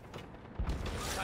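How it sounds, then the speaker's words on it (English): Magazine swap during a reload in Rainbow Six Siege, one short mechanical clack and thump partway through, close and brief over a low game background. "Swapping mags!"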